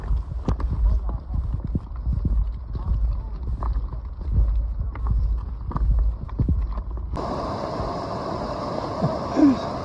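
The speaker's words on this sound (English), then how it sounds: "go on foot with the donkey caravan" Donkey hooves clip-clop steadily on the ground as a pack caravan walks on a mountain trail, with a voice talking over the plodding, then the scene cuts to wind-like noise.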